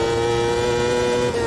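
Raspy V8 race car engine in the Automobilista 2 racing game, a steady sustained drone with a strong low tone and buzzing harmonics, held at a constant pitch and loud throughout with no talking.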